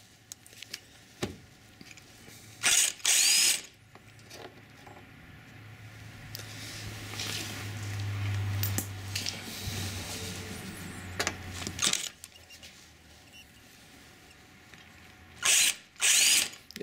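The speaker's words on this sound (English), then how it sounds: "This is a cheap Harbor Freight impact gun, wireless gun." A cheap cordless Harbor Freight impact gun works on fog light replacement on a 2002 Hyundai Santa Fe, firing in several short, loud hammering bursts separated by quieter stretches with a low mechanical hum.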